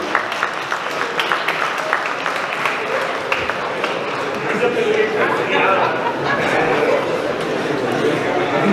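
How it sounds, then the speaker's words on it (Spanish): A conference audience applauds at the close of a certification specialists' panel, dense steady clapping mixed with crowd chatter filling the room for several seconds. "Fuerte aplauso."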